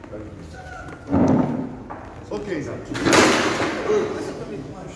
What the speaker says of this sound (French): C'est la chaise. C'est trop lourd.